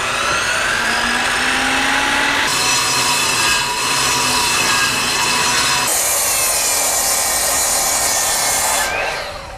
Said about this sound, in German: ist ein bisschen hart für die Säge.